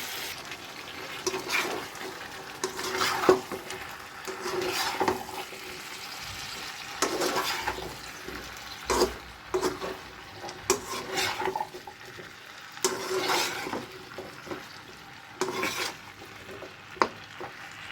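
Potatoes for a liver singara filling fry in a pan while being stirred, with a soft steady sizzle broken by repeated scraping and clinking strokes of a spatula, close and moderately quiet, without speech.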